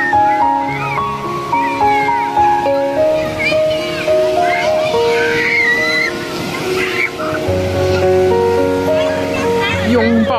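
Ocean waves wash steadily on a Shenzhen beach, a continuous surf rush under a bed of music, with faint children's voices here and there.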